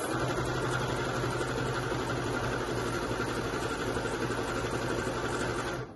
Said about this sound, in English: the next step is simply to sew those 2 tubes of fabric together. So I'm going to start off with the fleece.